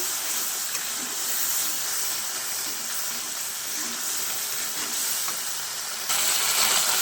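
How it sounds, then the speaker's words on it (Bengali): Spices frying for a chhana curry, a continuous close hiss and sizzle of the masala in hot oil, steady throughout and briefly louder near the end, with no talking. "মশলাটা ভালো করে কষিয়ে নিতে হবে।"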